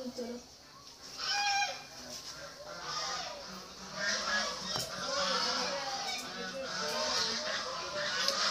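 A flock of ducks calls noisily nearby, with overlapping quacks and honks that rise and fall throughout. Faint voices can be heard in the background.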